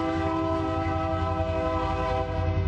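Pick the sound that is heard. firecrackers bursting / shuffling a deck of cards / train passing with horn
train passing with horn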